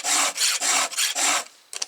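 Chainsaw chain being sharpened with a file on a saw clamped in a bench vise: loud, close rasping strokes in a steady back-and-forth rhythm, five strokes then a pause and a short final scrape.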